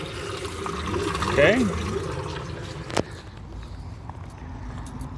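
Water rushes at full force through an RV black tank flush line, a steady hissing gush with a sharp clunk partway through, while a person speaks briefly over it.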